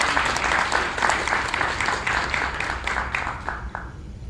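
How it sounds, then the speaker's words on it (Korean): Audience applause welcoming a professor, an immunology professor known for vitamin C, at a medical lecture event: loud, dense clapping from a crowd that gradually thins and fades out. "이황재 교수님을 큰 박수로 맞이해 주십시오"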